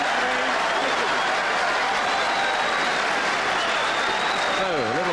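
Snooker audience applauding an Alex Higgins shot, steady warm clapping that fills the room, with a commentator's voice talking over the applause toward the end.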